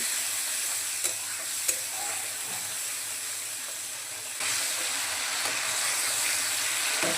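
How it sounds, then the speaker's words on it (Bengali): Chilli and coriander powder frying in oil in a pan and being stirred, a continuous close hiss with occasional sharp clicks of the spatula; the sizzle grows louder partway through. "এখন মশলাটাকে ভালোভাবে কষিয়ে নেব।"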